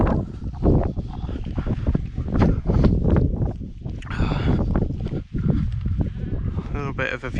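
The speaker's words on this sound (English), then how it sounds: "Windy as I thought." Wind gusts buffet the microphone on an exposed mountain ridge in the Brecon Beacons, loud, close rumbling bursts that rise and fall while someone talks over them.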